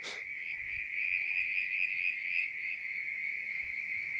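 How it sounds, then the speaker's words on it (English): Frogs call at a mountain tarn at night, a steady high trilling chorus holding through the whole stretch, loud and continuous with no talk over it. "these are the frogs"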